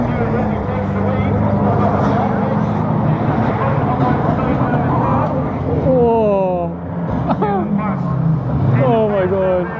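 Stock cars racing in a caravan destruction derby at Crimond Raceway, Scotland, with a steady, dense roar of several engines close by and a voice talking over the noise in the second half.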